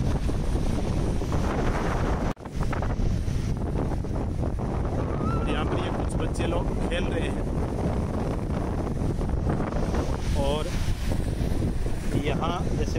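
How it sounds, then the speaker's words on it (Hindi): Sea waves wash in and out on a beach at Visakhapatnam, a steady loud roar of surf mixed with strong wind buffeting the microphone, while voices talk over it throughout. "ये समुद्र की लहरें आ रही हैं, वापिस जा रही हैं"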